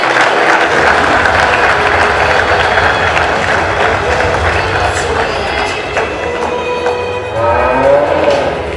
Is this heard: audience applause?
yes